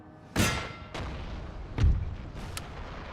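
Artillery batteries fire in a Napoleon Total War battle, with several booming reports, two heavier blasts about a second and a half apart, and lighter cracks between them, set against a low rumbling battlefield bed.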